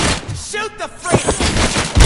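Video game gunfire crackles in a short, dense burst of rapid shots, loud and close, with a shouted voice over the top.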